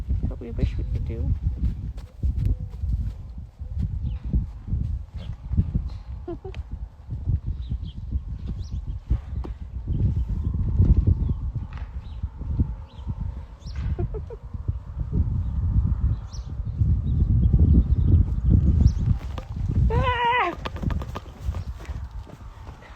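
Rescued horses move and feed in a barn, with hooves thudding and shuffling irregularly on the floor throughout and one short whinny near the end, while voices murmur faintly underneath.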